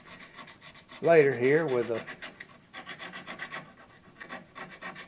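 Sandpaper rubs back and forth on the wood of a Gibson banjo as it is rounded over, a rhythmic rasping scratch with a brief burst of talk partway through.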